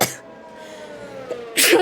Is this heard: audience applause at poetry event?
no